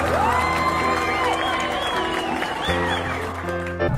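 Schoolchildren in a classroom clap and cheer to welcome a new teacher, a steady, continuous wash of applause with excited shouts under a bright musical backdrop.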